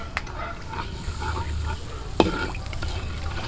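Leftover lechon being cooked into lechon sisig over an outdoor fire, with a continuous frying hiss and a single sharp spatula scrape partway through, heard up close over low background rumble.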